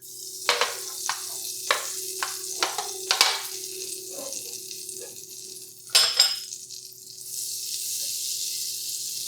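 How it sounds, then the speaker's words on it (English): Potatoes cooking slowly in butter in a shallow pan, a soft close sizzle under several sharp metallic clinks of a utensil against the pan, then a quieter steady hiss, with no talking. "we're going to be cooking these slowly in the butter in a shallow pan"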